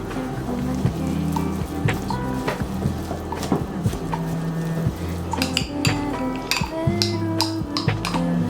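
Soy sauce, sugar and salt being stirred together in a bowl for chive pocket filling, with steady clinking of utensil against dish and scraping throughout, close and moderately loud, with a voice faintly present.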